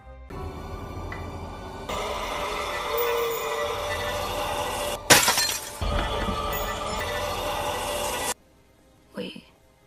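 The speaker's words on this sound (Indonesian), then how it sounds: "Jam dinding di ruangan itu pecah, seluruh ruangan bergetar" A wall clock shatters in a scene from the film The Green Mile, a sharp crashing burst midway through a loud, rumbling, trembling room ambience. Dramatic sound continues after the crash, then cuts to near silence before a brief faint noise.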